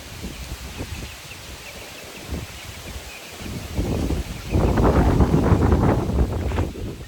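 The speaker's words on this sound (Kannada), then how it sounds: "ಸಖತ್ತು ಗಾಳಿ ಇದೆ" Strong gusty wind blowing through a village farmyard with chickens, a steady broadband rush that swells much louder and rougher in the second half, buffeting the microphone.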